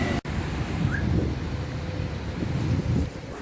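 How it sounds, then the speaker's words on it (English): Strong wind blows outdoors on a city street near a shopping mall, a steady loud rushing buffet against the microphone that lasts throughout, with no speech. "It's windy today."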